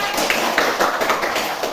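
A class of schoolchildren claps steadily and loudly in unison, close and continuous, with a faint rhythmic pulse to the clapping.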